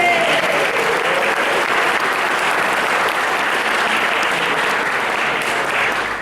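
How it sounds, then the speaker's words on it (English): Guests at an 80th birthday party clap in a full, steady round of applause that lasts about six seconds and fades slightly at the end. "So we'll give him a clap anyway, shall we?"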